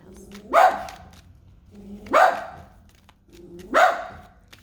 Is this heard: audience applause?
no